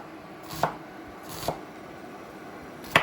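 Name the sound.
knife thinly slicing half an onion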